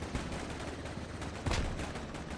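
Heavy .50 cal machine gun fire in the military shooter game Squad, a dense, continuous rattle of bursts with a sharper, louder volley about two-thirds through, with no voices over it.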